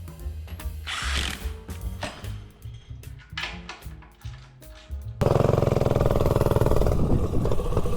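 A mini bike engine with a 12-tooth clutch and 4.83 gear ratio revs hard, its buzzing pitch climbing and falling, then holds a louder, sustained high-RPM drone near the end, close and alone.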